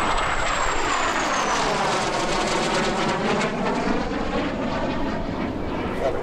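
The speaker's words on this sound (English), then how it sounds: "The EA-18G Growler is an electronic warfare version of the FA-18F Super Hornet" An EA-18G Growler electronic warfare jet passing at the Oshkosh EAA AirVenture 2019 airshow produces a loud, continuous engine roar with a sweeping pitch shift as it flies by, heard alone without voices.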